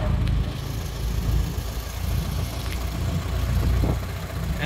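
A Ford Model T rolls along in top gear, its engine a steady low rumble with road noise, heard from inside the car and faint voices underneath.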